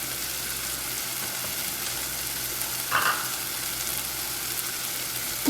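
A tomato masala with coriander powder sautés in a pan, giving a soft, steady sizzle with a brief utensil clink partway through and no talking.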